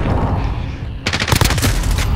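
Rapid machine gun fire from Call of Duty Modern Warfare erupts loud and close after a second of rumbling battle ambience, a dense burst of rattling shots that continues to the end.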